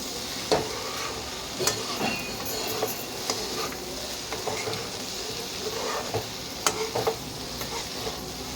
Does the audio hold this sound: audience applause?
no